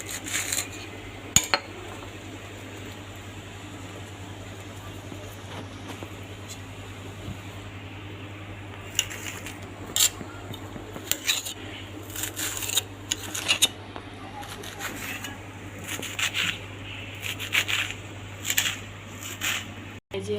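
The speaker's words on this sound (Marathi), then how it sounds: "मी चिरून घेते आता कोथिंबीर." A knife chops fresh coriander on a board: irregular light taps that bunch together in the second half, set over a steady low hum with no voices.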